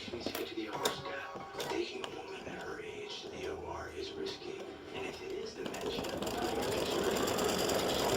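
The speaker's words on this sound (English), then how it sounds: "try to trim any tail that might be left on the top before it starts stitching" An embroidery sewing machine stitches a pendant design, a close rapid mechanical chatter that builds into a steady, louder running hum over the last few seconds.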